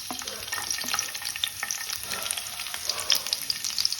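Chopped garlic, eight cloves, hits hot oil for chicken fried rice, giving a steady close sizzle with crackling pops and light stirring scrapes throughout, no voices.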